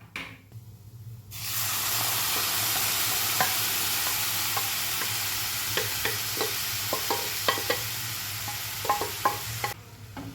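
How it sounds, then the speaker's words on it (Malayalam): Pre-cooked beef goes into a pan of spices for a Kerala-style pepper beef roast, setting off a loud, steady frying sizzle. A spatula scrapes and clatters through it in quick, irregular strokes. "ഇനി ഈ ഒരു സമയത്ത് നമ്മൾ നേരത്തെ കുക്ക് ചെയ്ത് വെച്ചിട്ടുള്ള നമ്മളുടെ ബീഫ് ഉണ്ടല്ലോ അത് നമുക്കിതിലേക്ക് ചേർത്ത് കൊടുക്കാം"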